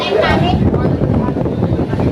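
Loud wind buffeting a microphone, a steady rumbling roar throughout, with a voice faintly audible at the start.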